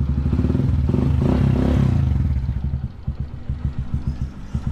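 Freshly started motorcycle engine idling loud and close while it warms up, a steady low rumble that begins to stumble and pulse unevenly toward the end.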